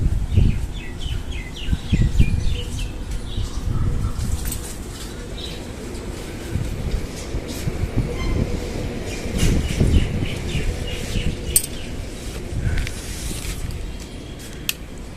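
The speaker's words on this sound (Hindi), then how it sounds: "देखो चिड़ियाओं की आवाज़ सुनो।" Small birds chirping at a feeding spot where grain has been scattered, steady twittering and cooing mixed with rustling and low background rumble, no talk.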